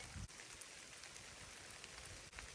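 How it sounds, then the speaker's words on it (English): Rain falls steadily at a bush camp during a hunting trip, a soft, even patter and hiss with a few nearer drops and faint knocks, heard quietly with no talking. "It's starting to rain now."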